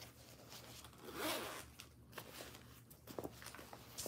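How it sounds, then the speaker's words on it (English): The zip closure on a leather purse is pulled in one close, rasping zipper run lasting about a second, followed by faint handling taps and rustles, with no talk. "It does have a zip closure."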